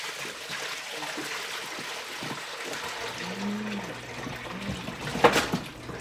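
Turkey brine juice splashes and pours in a sink, running steadily with a louder burst of splashing near the end.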